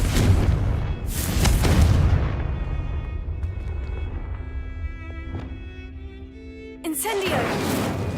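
Confringo spells explode in Hogwarts Legacy, with deep booming blasts near the start and again near the end, loud and close, and quieter tonal game sounds ringing between them.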